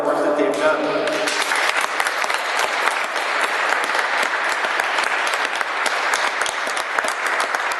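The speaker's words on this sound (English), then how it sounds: "let's just give them a round of applause for all the hard work that they've done" An audience at a Minneapolis Police Department citizens academy graduation for Somali youths breaks into loud, sustained applause, with a brief voice at the very start before the clapping takes over.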